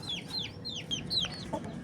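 An old black hen clucks in a quick run of short, bright calls, close and fairly clear over a faint background hum.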